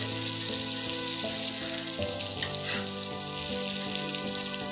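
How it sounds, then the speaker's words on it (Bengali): Elephant foot yam dhoka cakes frying in hot oil give a steady, close sizzle that runs throughout, with tonal background music playing underneath. "দেখুন কি সুন্দর ভাজা হচ্ছে"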